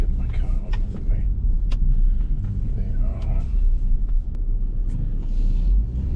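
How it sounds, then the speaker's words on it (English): A car drives slowly through a parking lot, with steady low engine and road rumble plus occasional brief clicks and knocks close by. Talk runs over the rumble. "so I'm driving here in the parking lot"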